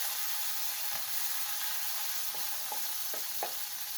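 Grasshoppers frying in oil in a pot over a village cook fire give a steady, soft sizzle throughout, with a few light scrapes and taps near the end.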